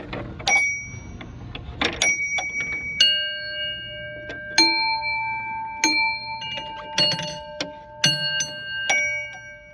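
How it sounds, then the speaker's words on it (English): Playground chimes ring out in a series of struck, bell-like tones with long sustained overtones, several distinct strikes spaced unevenly across the stretch, fairly loud and close. "They sound like Episcopal churches bells."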